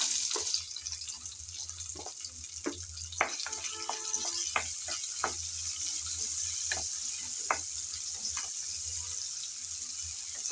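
Chopped onion goes into oil left over from frying chicken, already spiced with cardamom and cinnamon, and fries with a faint steady sizzle under a low hum, scattered utensil clicks and taps.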